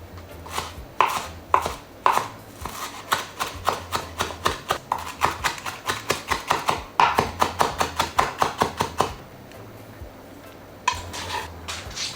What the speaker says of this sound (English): now that our cilantro has dried up a bit, we're gonna go ahead and cut it